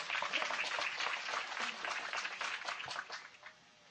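Crowd applause at a village evening gathering, a broadband patter of many hands that holds steady for about three seconds and then quickly fades toward quiet.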